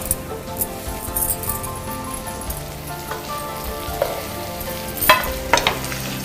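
Chicken frying in a hot pan, a loud continuous sizzle close by, with stirring scrapes and a few metallic clinks of the spoon against the pan toward the end.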